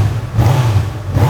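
A 2018 Honda CB1000R motorcycle engine, close and loud, with a deep steady rumble that swells into a brief throttle blip.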